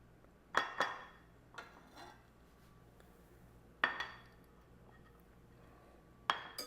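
Chicken wings being moved into a bowl for saucing, with a few scattered clinks and clatters of dishes and utensils against glass or ceramic, separated by quiet pauses.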